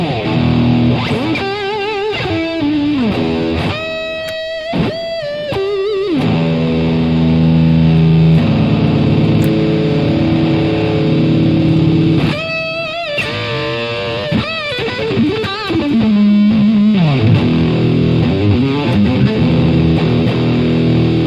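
A loud electric guitar played through a Fuzz Face style fuzz distortion pedal, with sustained buzzing chords, bending notes and squealing slides, no voices.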